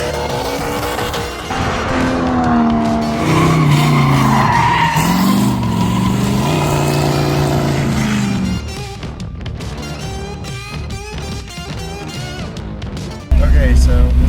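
Competition race cars on practice runs, tires squealing and skidding over loud engine noise with shifting revs, a speaking voice also present, ending in an abrupt louder burst.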